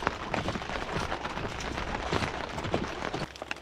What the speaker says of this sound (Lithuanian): Įsilijo lietus